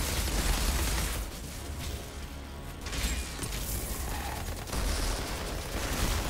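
Sword rifle fire in the game Outriders, delivered as dense, continuous mechanical gunfire with clanking weapon action, loud and close throughout, with a brief lull near the middle before the shooting resumes.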